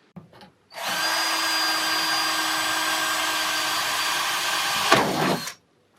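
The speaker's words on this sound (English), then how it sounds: "I think I'm also going to drill through one of the attachments of the hinges" A power drill bores through a metal door hinge attachment, running as one steady, loud whine for about five seconds before stopping with a brief change in pitch.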